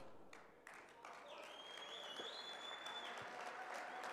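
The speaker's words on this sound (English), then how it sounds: "Let's give him a round of applause as he comes forward" A crowd at a men's indaba event applauds as a guest comes forward, a fairly faint, steady wash of clapping that builds slightly, with a tonal whine and a few thumps mixed in.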